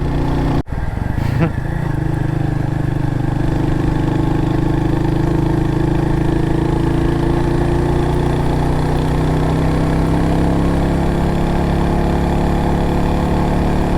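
A motorcycle engine idles steadily and loudly nearby, a low even rumble with a brief bump near the start, on a road trip around Kampot and Kep.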